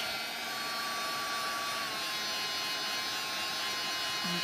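A heat gun melts embossing powder for a craft resist technique, blowing with a steady, loud, continuous whine and roar that holds unbroken throughout.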